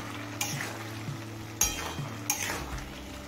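Vegetables cooking in a pan for a pitha filling are stirred, with three sharp scraping clanks of a spoon against the pan over a soft, constant sizzle nearby.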